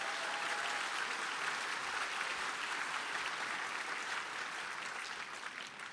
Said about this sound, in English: can I get a round of applause to all the Road to Devcon communities that made this possible